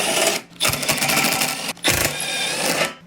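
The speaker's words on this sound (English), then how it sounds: "there's just a bunch of 3/8 bolts that we have to remove" A power tool whirs in two rapid rattling bursts, removing 3/8 bolts from the belt cover access panel of a Toro 721E snowblower, loud and close with a short pause between.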